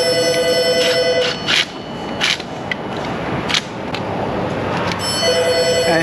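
A telephone rings with an electronic tone at the start and again near the end, over a steady background hiss with a few sharp knocks in between.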